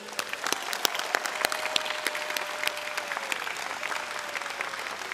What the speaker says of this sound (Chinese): 也请大家一起给他们一个最热烈的掌声